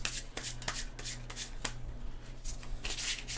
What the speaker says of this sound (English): We're going to grab this deck, give it a shuffle.